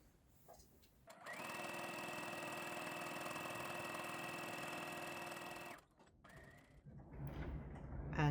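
A sewing machine stitches a seam through brocade jacquard fabric, running steadily for about four and a half seconds with a constant whirring hum, briefly stopping, then starting again more softly at the end.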